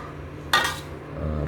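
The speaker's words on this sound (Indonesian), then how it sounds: "Pakai tutup panci." A metal lid clanks down onto a cooking pot once, a short bright clatter that rings briefly, with low kitchen background noise around it.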